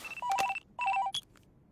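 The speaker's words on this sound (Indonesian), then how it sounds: "ada telepon masuk dari petugas di dalam ambulan itu" A telephone rings in two short electronic trills with a brief pause between them, clear and moderately loud.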